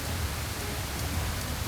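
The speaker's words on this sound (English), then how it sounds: "the rain is so loud." Heavy rain pours down steadily in a dense, loud, even hiss that fills the whole moment without letup.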